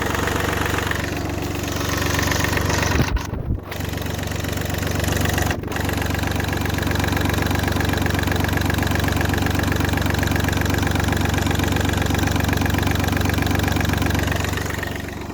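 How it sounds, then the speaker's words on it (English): An Audi A2 turbo car engine idling with a power-loss fault and oil around the turbo and actuator: a loud, steady, close mechanical idle with a slightly knocking rhythm, broken by a couple of brief clunks near the start. "let me just turn the engine off"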